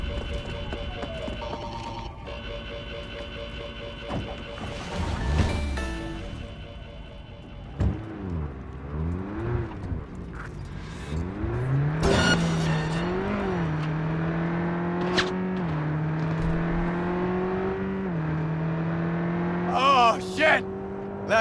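Car engine in a police chase in the video game Cyberpunk 2077, with steady revving and rising whine, swooshing pass-bys and a few sharp impacts, loud and continuous under game dialogue.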